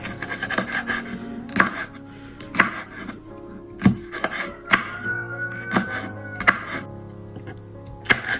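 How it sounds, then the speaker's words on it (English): A knife chops aloe vera into small chunks on a board, with close, sharp, repeated knocks landing roughly once a second over a soft background of faint rubbing. "So I'm cutting it into smaller chunks."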